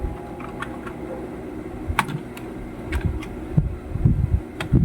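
Keys tapped on a computer keyboard while C code is entered, a scattered run of soft clicks with a few sharper strokes over a steady low room hum.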